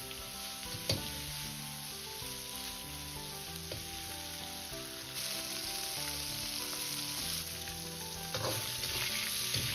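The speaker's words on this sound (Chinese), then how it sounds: "下入切好的五花肉， 再把八角捏碎一起翻炒" Sliced pork belly and crushed star anise stir-fry in hot oil over medium-low heat, making a dense, steady sizzle with a few louder spatters and low tones underneath.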